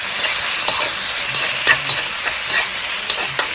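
Garlic powder and grated ginger fry in hot oil with a loud, steady sizzle close up, broken by occasional light scrapes of a stirring spoon in the pan.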